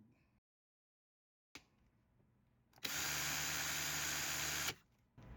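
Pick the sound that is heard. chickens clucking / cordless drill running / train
cordless drill running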